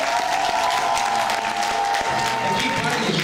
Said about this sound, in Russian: Аплодируйте им, пожалуйста.